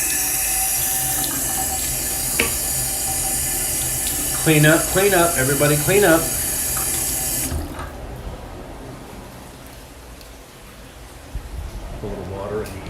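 A sink tap runs steadily, hissing as something is rinsed at a tropical fish shop, while a person speaks briefly over the flow. The water then cuts off, leaving quiet room noise.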